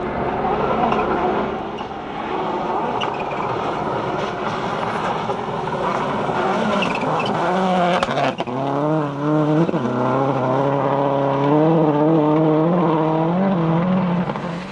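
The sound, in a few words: Subaru WRC rally car racing on a rally stage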